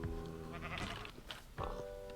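In the video game Minecraft, a sheep bleats twice, each a wavering nasal cry heard up close. The second bleat is shorter, and game ambience plays softly underneath.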